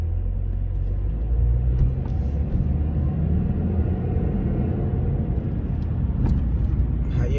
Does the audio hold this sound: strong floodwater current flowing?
no